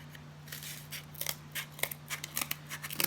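Scissors snip through puffy-paint craft material in a quiet room, a string of short crisp cuts that grow sharper and more frequent toward the end, close and fairly quiet over a steady background hum.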